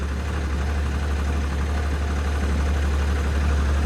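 A tractor engine runs at a steady idle, a loud, constant low rumble with a vibrating drone and no pauses.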